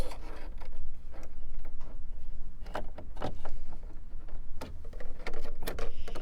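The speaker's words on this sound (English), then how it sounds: "I'm going to put on the chain stitch foot." Close, small plastic clicks and light handling taps as a chain stitch presser foot is fitted onto a Bernina L890 sewing machine, scattered irregularly over a low steady background hum, with no talking.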